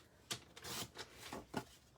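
Vellum paper is trimmed down to size, making quiet, close, papery swishes and rasps in a few short bursts, alone without talk.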